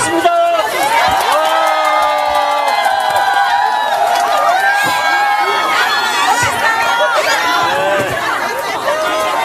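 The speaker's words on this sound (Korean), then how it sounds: "이재명 대표님의 기자회견을 큰 박수와 함성으로 듣도록 하겠습니다." A crowd at a political press event cheers and shouts over continuous loud chatter, with whistles and whooping voices rising and falling throughout.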